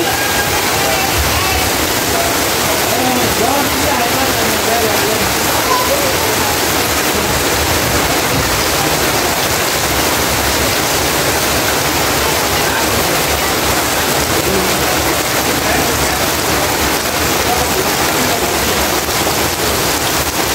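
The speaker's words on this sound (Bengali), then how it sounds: "বাইরে অনেক বৃষ্টি নামছে" Heavy rain falling outside, a loud, dense and unbroken hiss that holds steady throughout, with no voices over it.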